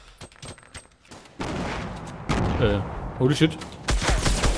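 Bursts of gunfire in the Fortnite Battle Royale video game, sharp rapid shots and a sustained volley following a quiet start, with a voice exclaiming among the shooting.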